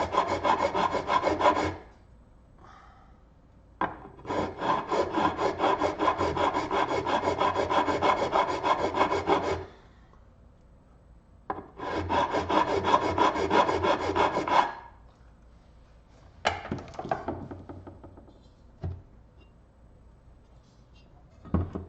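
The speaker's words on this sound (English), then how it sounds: "I know I'm using a file" Hand filing the ports of a Malossi 166 cylinder, with long bursts of steady back-and-forth metal rasping, then short pauses, then another long stretch and a few brief strokes at the end, close and alone.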